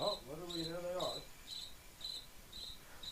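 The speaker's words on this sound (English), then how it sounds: "You can hear them now on the East Longmeadow bench." Crickets chirp in regular, evenly spaced pulses on the sideline bench of a boys varsity high school lacrosse game, East Longmeadow against Pope Francis, with a brief voice over the first second.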